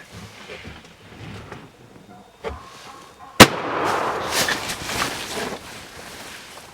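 A single loud gunshot cracks out during a Minnesota turkey hunt outdoors, preceded by quiet rustling and a faint thump, with a lingering rumble and echo after the blast.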